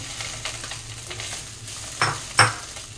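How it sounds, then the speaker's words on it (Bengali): Bread pieces fry in a little oil with a soft, steady sizzle, broken near the end by two sharper clinks of a utensil against the pan, close and without any talk. "আমি এবার ব্রেডগুলো একটু ভেজে নেব।"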